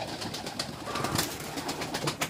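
Pigeons coo softly among a flock, with low, murmuring calls over a noisy, rustling background and no voices.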